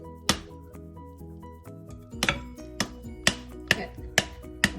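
A wooden spoon whacks the back of a halved pomegranate held over a bowl, a series of sharp, close knocks coming faster and more regularly toward the end.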